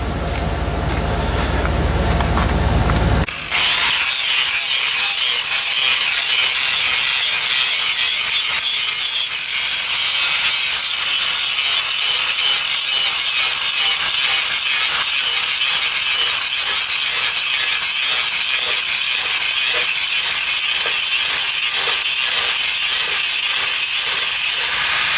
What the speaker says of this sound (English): just very gently clean up with the grinder, and this will clean up quite nicely